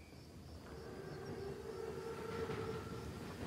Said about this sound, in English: Train's right on time. Biggest train I've ever seen. Thickest armor, too. It's a Panzerzug.